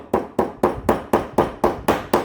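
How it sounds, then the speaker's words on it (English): A hammer drives pliers into the lid of a barbell shipping tube with eight loud, close, evenly paced hard strikes, each ringing briefly before the next. "So all you do is you get your pliers, hold it down, hammer it down a little bit"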